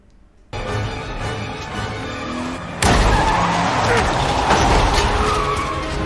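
A movie car chase roars with engine noise and screeching, skidding tires, with a sudden loud jump in intensity partway through as the chaos grows, dense and close, with voices mixed in.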